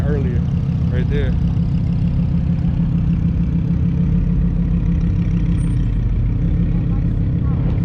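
Audi R8 engine idling at an outdoor exotic car meet, a steady low rumble running throughout, with background crowd noise and voices talking over it.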